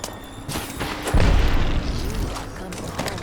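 A grenade goes off in an Apex Legends match, a single deep, loud boom with a low rumble that fades over about a second amid game noise.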